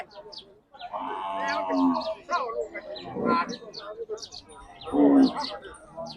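Cattle low a few times at close range at an outdoor livestock market in Maha Sarakham, Thailand, amid a busy crowd, with people talking and birds chirping faintly in the background.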